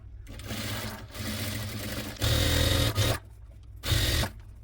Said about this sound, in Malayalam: കോർണറുകൾ സ്റ്റിച്ച് ചെയ്തെടുക്കാം ഒരു അര ഇഞ്ച് തയ്യൽ തുമ്പിൽ സ്റ്റിച്ച് ചെയ്തെടുത്താൽ മതി